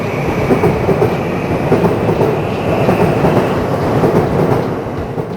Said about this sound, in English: wait for a train to go by